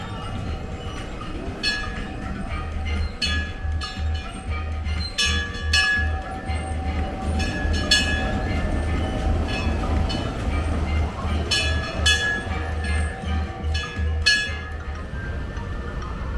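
A 1992 Mack Rides powered coaster, the Runaway Mine Train, rumbles along its track with a steady low roll and repeated metallic clinks and clacks, continuous and moderately loud.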